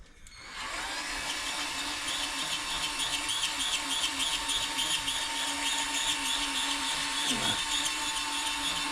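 A brake cylinder hone spins steadily inside a 1940 front wheel cylinder, a continuous high whining drill-driven grind that starts abruptly and holds even and close for several seconds, with a brief pitch dip near the end.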